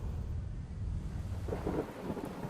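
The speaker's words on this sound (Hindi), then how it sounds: "जब तुम ऐसी आंधी देखो" Thunder rumbles low and continuously through a windstorm. A deep roll builds and swells near the end, with no voices.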